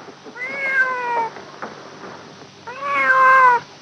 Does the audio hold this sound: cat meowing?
yes